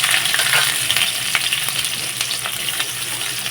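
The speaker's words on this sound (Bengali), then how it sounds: "পেঁয়াজগুলো দিয়ে নিয়েছি, পেঁয়াজগুলো কিন্তু লাল লাল করে একটু ভেজে নেব" Onions frying with dried red chillies in a wok crackle in a loud, steady sizzle punctuated by light stirring clicks, close up and without speech.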